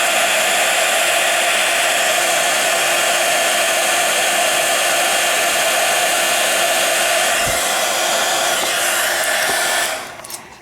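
A heat tool melting embossing powder on black card blows with a loud, steady, close whoosh for about ten seconds, then cuts off abruptly.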